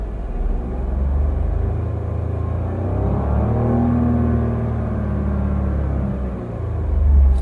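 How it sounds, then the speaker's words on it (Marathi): A 2025 Maruti Suzuki Swift's engine restarts and idles around 2000 rpm, a low, steady rumble with a faint whine swelling in the middle, heard up close without any voices. "आता बघा मी जर का क्लच दाबलं तर गाडी परत चालू झाली आवाज नोटीस करा दोन हजार आर पी एम"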